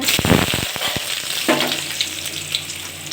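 Hot oil crackles and sizzles as tempering seeds hit the pan for an okra fry, with a burst of sharp pops early on that settles into a steady hiss.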